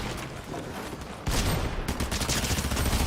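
Video game gunfire erupts in a loud, fast burst of repeated shots over a steady background din, with no talk.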